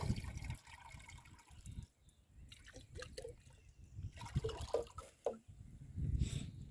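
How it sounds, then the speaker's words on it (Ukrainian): Fertilizer mixture for root-feeding winter garlic pours into a 10-litre sprayer tank, a wet trickling and sloshing flow with drips that fades and swells across several seconds, fairly close but not loud. "ось оцю суміш ми виливаємо наш бачок"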